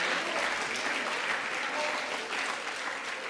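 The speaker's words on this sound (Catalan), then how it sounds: "un aplaudiment també per aquest centre que està celebrant el seu primer centenari" A studio audience applauds a school celebrating its first centenary on a Catalan quiz show, a dense, even wash of clapping that holds steady throughout without voices.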